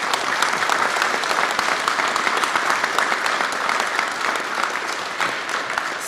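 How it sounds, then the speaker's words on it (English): An audience at a San Francisco press announcement applauds the mayor, a steady, fairly loud round of clapping with faint crowd murmur beneath. "I think this mayor deserves a round of applause"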